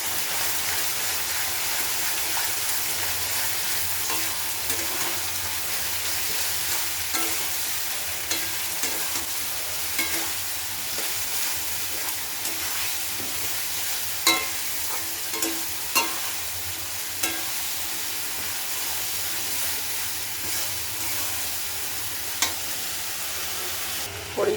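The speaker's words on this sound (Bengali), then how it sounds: "দিয়ে ভালো করে মশলা কষায় নেব।" Spices being stir-fried in a pan, a constant bright sizzle with occasional scrapes and clicks of a utensil stirring, steady and close with no talking.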